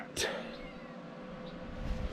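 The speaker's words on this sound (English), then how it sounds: "cat." A cat gives a single short meow close by at an outdoor fire pit build, then quiet low background rumble follows.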